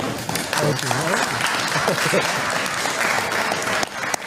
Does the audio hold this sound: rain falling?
no